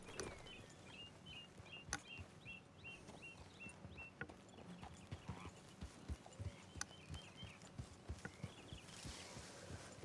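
Horse hooves clip-clop in a steady walking rhythm in Red Dead Redemption 2, close and clear, with a brief whinny and faint birds in the background.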